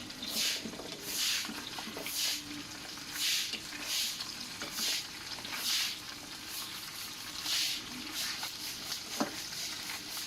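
Chicken salt-roasting in a Teflon pan with a little oil, pork rendered beforehand, giving a steady soft sizzle with repeated scraping and stirring bursts throughout.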